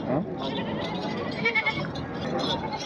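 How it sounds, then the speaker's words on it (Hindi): Desi goats, including a nursing female with kids, bleat at a livestock market, giving repeated short calls over a busy murmur of crowd voices and someone talking. "जी जाहिद बाबू, देसी बकरी है जी, बच्चे वाली नाल नारा मादी है"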